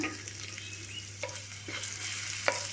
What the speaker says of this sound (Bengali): তেলে একটু নাড়াচাড়া করে নেব।